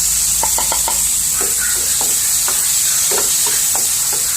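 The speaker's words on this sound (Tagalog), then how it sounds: "lalagyan natin yung bawang at kamatis" Garlic and tomato frying in a pan, a steady loud sizzle with light scraping and stirring taps repeating through it, close and continuous with no talking.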